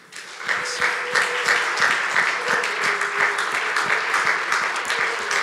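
A church congregation applauds with acclamations during a worship service, giving sustained, fairly loud clapping with sharp individual claps and some voices mixed in.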